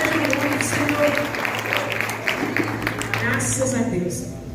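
A church congregation claps along in steady, rhythmic applause, loud and close, while someone speaks over the clapping, which fades toward the end.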